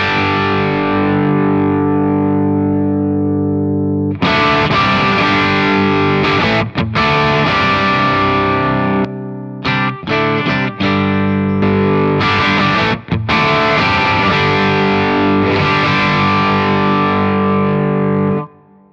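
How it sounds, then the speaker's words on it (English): Electric guitar played through a Protein v4 drive pedal with its low-cut dip switch engaged gives loud, distorted sustained chords and riffs with brief pauses, close and unaccompanied. "engaging that low cut, which is putting the dip switch down, you're getting a little more focused sound"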